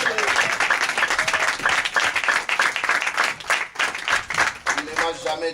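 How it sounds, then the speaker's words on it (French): A church congregation applauding the Lord, rapid rhythmic hand clapping from a crowd with bursts of cheering and voices calling out over it. "Nous acclamons encore les seigneurs. Plus fort encore."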